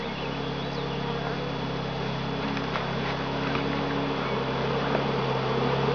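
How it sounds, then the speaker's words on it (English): An angry honeybee swarm at a home apiary gives off a steady, dense buzzing that holds at an even level throughout, with a constant low hum beneath it. "These bees are really mad."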